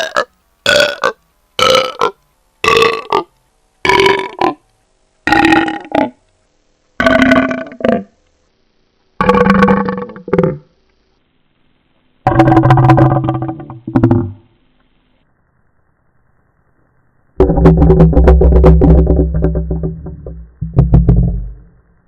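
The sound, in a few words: burp altered with Audacity effects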